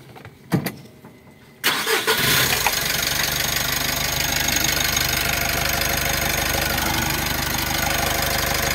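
A Mitsubishi L300 2022 van with a check-engine fault and gear-shift trouble, its engine catching after a few knocks and then holding a steady raised drone close by, with no talk over it.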